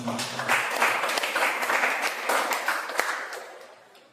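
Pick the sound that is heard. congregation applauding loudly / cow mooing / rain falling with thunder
congregation applauding loudly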